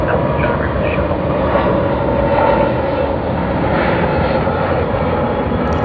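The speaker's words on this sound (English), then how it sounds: "That's the Boeing 787-9 Dreamliner." A Boeing 787-9 Dreamliner roars past at an airport, a loud, steady, broadband jet engine rush that holds constant throughout with no talking.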